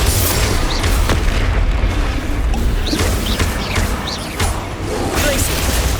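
Confringo blasting spells exploding in Hogwarts Legacy, a loud, dense run of booms and crashes with sharp bursts scattered throughout and constant rumbling underneath, with voices mixed in.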